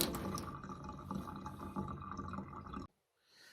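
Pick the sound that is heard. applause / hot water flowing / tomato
hot water flowing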